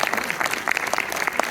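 An audience at a film premiere in Orléans claps, a brief burst of dense, steady applause from a crowd heard close up.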